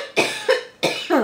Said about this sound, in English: Still kind of coughing up a little bit of junk from that chest cold I had.